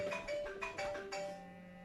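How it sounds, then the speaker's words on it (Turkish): A telephone ringtone plays a short melodic pattern of clear electronic tones in a quiet room during a needle lace craft session, fairly faint, ending in a sustained note. "Telefon çalıyor bir saniye arkadaşlar."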